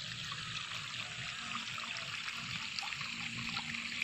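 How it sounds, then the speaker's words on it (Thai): Water draining out of a flooded rice paddy field into a pond, a steady close trickle and rush of flowing water that continues evenly throughout, with no voices. "วันนี้ก็มาระบายน้ำออกจากทุ่งนานะคะเพื่อที่จะไม่ให้น้ำนั้นท่วมขังต้นข้าวค่ะ"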